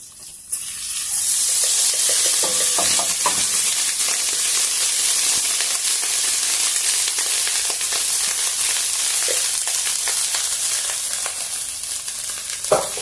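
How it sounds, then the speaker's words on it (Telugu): Basmati rice with cumin and capsicum crackles and hisses in a hot pan as it is stirred, a loud, sustained sizzle with occasional scrapes and clinks. "ఇప్పుడు అన్నాన్ని నిదానంగా కలుపుకోండి ఎందుకంటే బాస్మతి రైస్ కదా"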